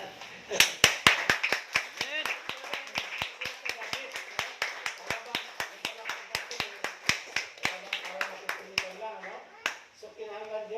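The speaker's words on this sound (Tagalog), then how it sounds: "Palakpakan natin ang Panginoon." A church congregation claps in praise, a long run of sharp, fairly regular hand claps at roughly three per second, with voices calling out underneath and the clapping thinning out near the end.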